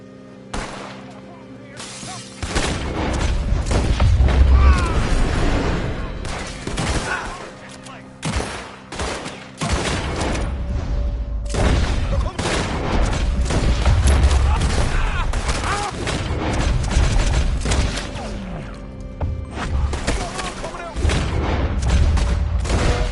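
Sustained gunfire from a shootout with lawmen in Red Dead Redemption 2, dense overlapping shots and booms filling the scene for over twenty seconds, with voices calling out in between.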